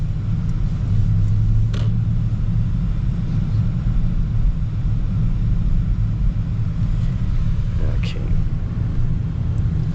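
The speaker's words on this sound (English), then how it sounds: "It's got quite a bit of road noise from the tires." Steady low tire roar and road rumble heard from inside a 2025 Mercedes S63 fitted with high-performance tires, a constant near drone throughout with a couple of faint brief clicks.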